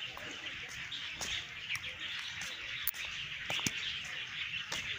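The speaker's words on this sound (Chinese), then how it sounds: "哦，听到鸟叫声呢。" Birds call and chirp in scattered short bursts through steady outdoor background noise on a quiet morning walk near a Mazu temple, with occasional sharper rustles and no talking.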